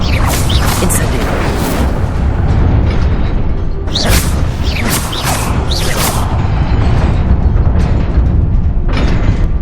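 Repeated Incendio fire spell casts in Hogwarts Legacy: loud whooshing bursts and booming crackles, several blasts clustered early and again mid-way, under a constant dense rumble of game effects.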